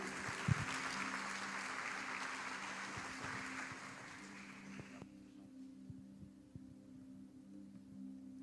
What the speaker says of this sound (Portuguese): Você pode aplaudir ao Senhor pela vida dele.